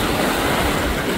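Strong ocean surf rushes onto a beach as a dense, steady roar of breaking water, loud and close, with no voices.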